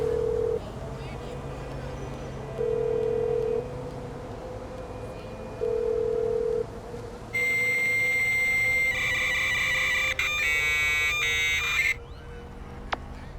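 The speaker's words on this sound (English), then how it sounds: "it plays exactly the same sound, like a voicemail box, but there's no voice or anything" An electronic voicemail-style phone tone from a call in the video game GTA 5, with repeated steady beeping pulses and then a denser stretch of overlapping high electronic tones, set against low game ambience.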